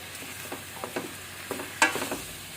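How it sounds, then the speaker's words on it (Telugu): Several soft scraping stirs as mashed dal is added to boiling rasam, irregular and close, over a faint bubbling hiss, ending with a sharper clink. "అది మెత్తగా స్మాష్ చేసి ఆ మరుగుతున్న రసంలో వేసేసి"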